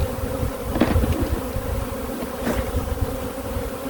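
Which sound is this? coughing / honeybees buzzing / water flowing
honeybees buzzing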